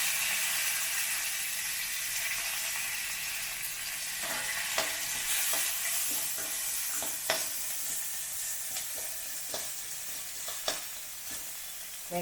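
Curry leaves and garlic sizzle in a little oil over high heat, a continuous bright crackle with irregular sharp taps and scrapes of a spatula against the pan.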